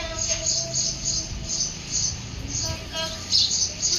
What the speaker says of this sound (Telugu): ఇదిగోండి బర్డ్స్.